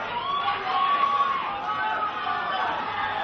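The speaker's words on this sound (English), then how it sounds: "Well, the crowd are screaming. You can hear someone screaming in the crowd." A crowd at the Fight UK 3 live combat event keeps up a steady hubbub, with shrill, drawn-out screams rising above the general noise.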